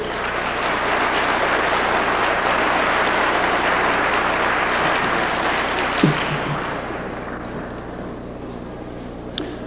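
Lecture audience applauding for Al Bielek, a steady dense roar of clapping that holds for several seconds, then thins out and fades, leaving a few scattered claps.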